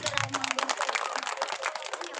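A crowd at a gathering applauding loudly for supporters, with dense, fast clapping from many hands that runs throughout. Voices are mixed in at the start.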